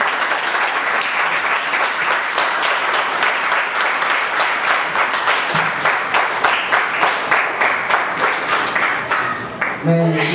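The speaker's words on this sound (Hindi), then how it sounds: "जोरदार तालियों से स्वागत करते हैं।" An audience welcomes a speaker at a talk on chakras with sustained, even applause lasting several seconds, many hands clapping steadily and loudly, tapering slightly toward the end.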